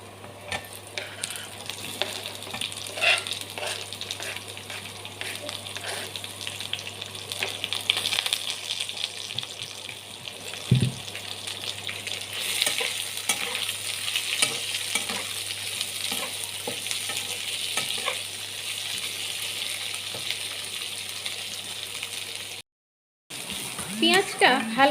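Chopped onions fry in a pan with lightly browned garlic, a continuous crackling sizzle with occasional stirring clinks, heard close under a person's talk, then a brief drop to silence near the end.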